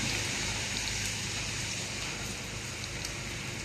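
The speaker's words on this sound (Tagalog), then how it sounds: "Oh, ang lakas ng ulan, guys." Heavy rain pours down in a dense, continuous roar with no breaks, loud and close, as if heard from under a small shelter.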